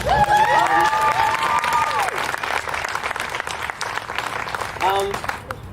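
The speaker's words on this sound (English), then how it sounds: "Can we actually clap for her again?" Crowd applause at a groundbreaking ceremony for a community house in Heber, Utah, steady loud clapping with scattered cheers and whoops rising over it near the start and end.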